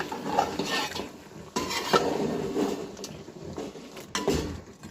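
Close scraping and clinking of a spoon stirring bone-in beef with ginger-garlic paste in a metal pot, with irregular strokes and a faint sizzle underneath.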